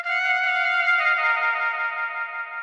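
A flute sample with a short delay applied across the whole melody: sustained, smeared notes overlap with their own repeats, giving a cluttered, echoing blur that fades at the end.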